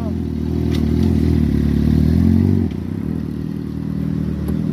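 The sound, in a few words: motorcycle engine revving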